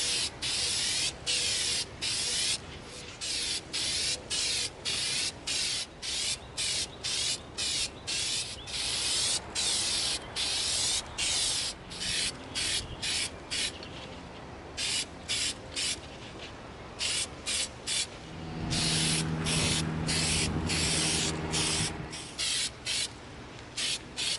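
Repeated bursts of hissing spray from an aerosol can of Plasti Dip rubber coating onto an EVA foam sledgehammer prop, short sprays in a steady rhythm with brief pauses, close and fairly loud.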